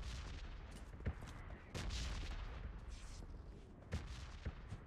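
Distant artillery shelling in the battle game PUBG Lite, faint repeated booms and rumbling blasts at irregular intervals over a low background.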